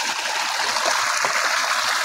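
Clear water flowing steadily in a village, a broad continuous rushing and trickling that stays at an even level throughout, with no voices.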